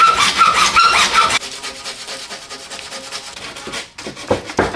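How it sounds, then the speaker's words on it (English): A handsaw cuts through wood at close range, loud rasping strokes repeating in a steady back-and-forth rhythm, harsher in the first second and then continuing as softer sawing with no talk over it. "I'm just using a handsaw to give it the old cutterino."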